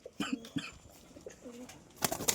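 Tumbler pigeons coo softly nearby in a few low, rounded calls, with a brief burst of sharper noise near the end.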